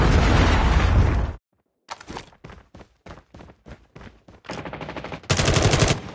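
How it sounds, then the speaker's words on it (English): Predator missile strike in the Call of Duty Mobile video game: a loud roaring blast, then a burst of rapid gunfire and a second heavy explosive roar at the end. "Predator missile inbound."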